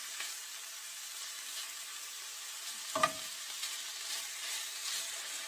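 Shaved steak for cheesesteaks fries in a pan with a steady, even sizzle throughout, close and moderately loud, broken by a single brief clank of a utensil against the pan near the middle, no voices.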